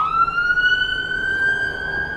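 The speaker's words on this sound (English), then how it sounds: "Ambulance." An ambulance siren passes outside, a single loud sustained wail with a slowly rising pitch, heard clearly over faint background noise.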